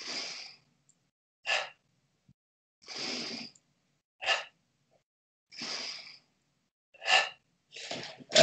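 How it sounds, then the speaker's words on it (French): Someone exercising breathes deliberately loudly, giving about nine forceful, breathy exhalations and inhalations in an irregular rhythm with silent gaps between them, close and clear, without talk. "Je fais une respiration sonore, c'est juste pour que vous m'entendiez respirer."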